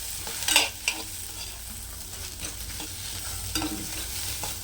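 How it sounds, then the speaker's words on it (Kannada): Hot green chillies frying in a pan, a faint steady sizzle with a few sharp stirring clinks and scrapes up close, no talking. "ಇವಾಗ ಮೆಣಸಿನ್ಕಾಯಿ ಹಾಕ್ತೀನಿ."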